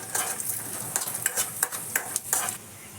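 Cashews and almonds frying in ghee in a pan, a steady close sizzle broken by light clinks and scrapes of stirring.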